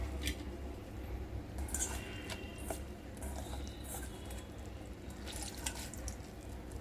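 Water draining off freshly rinsed rice-plant greens in a home kitchen, heard as a soft, faint trickle with scattered light drips throughout, no voices.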